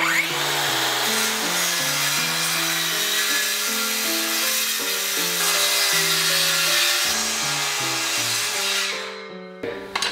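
A power saw rips the rounded edge off a thick wooden board for a historic cigar factory window restoration in Ybor City, Florida, a steady close whine shifting in pitch as it cuts, then cutting off at the end.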